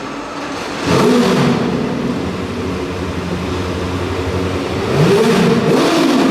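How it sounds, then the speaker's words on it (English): A Caparo T1 sports car engine revs hard twice at a motor show, loud and close, the pitch climbing with each burst, idling with a rumbling drone in between. "let's hear what a Caparo T1 sounds like"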